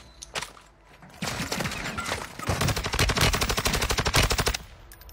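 Gunfire in a shooting video game: a short burst, then sustained loud rapid automatic fire with dense repeated shots, no talk.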